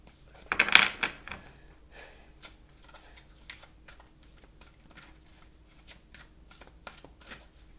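Oracle cards are shuffled by hand, a loud riffling flutter at the start, then quieter intermittent card slides and taps, with no speech.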